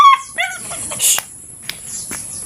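A dog barks and yips in a few short, sharp bursts at close range, with brief whimpery high notes between them.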